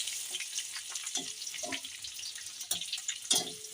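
Dried red chillies and panch phoron crackle and sizzle in hot oil, a close, moderately loud hiss broken by bursts of popping and spitting, with no voices.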